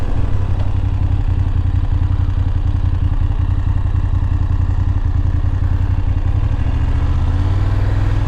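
A motorcycle engine chugs loud and close at low revs in a Norwegian harbour town near a cruise ship, a steady rapid pulsing that runs without a break as the bike is ridden and brought to a stop.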